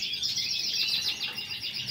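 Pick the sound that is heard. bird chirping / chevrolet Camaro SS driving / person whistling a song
bird chirping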